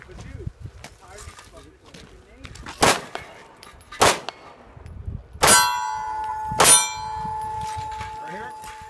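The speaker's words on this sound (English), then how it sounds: "Shoot that big target. Good hit." Pistol rounds ring off steel targets at an action pistol competition, four sharp metallic clangs spaced about a second apart, the last two leaving a long bright ring, with a coach's voice talking quietly between hits.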